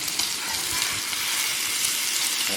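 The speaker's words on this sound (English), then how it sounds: "Let's let it just simmer there for a few minutes." A bacon burger patty sizzles in a pan in a dense, steady hiss that holds loud and close without a break. No voices.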